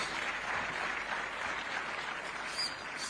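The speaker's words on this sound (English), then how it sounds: "I think we must clap for these reforms." Audience at a private sector day event for job creation and economic growth gives a steady round of applause, a soft continuous patter of many hands throughout.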